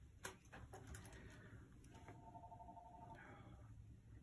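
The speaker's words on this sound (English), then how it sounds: "And there goes the phone." A telephone rings indoors in a quiet room, a steady electronic trill repeating for about a second in the middle of the clip, moderately faint over background hum.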